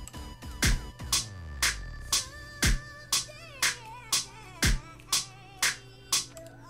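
Programmed drum beat with hi-hats on every beat plus kicks and claps, a steady even pulse of crisp hits over deep kick thumps, loud and up front.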